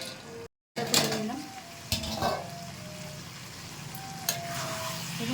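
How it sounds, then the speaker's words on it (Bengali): A pot lid clanks down onto a pan of papaya, potato and soybean curry cooking on the stove, with a couple of lighter metallic knocks after it over a soft, steady sizzle. "আবার ঢাকা দেবো।"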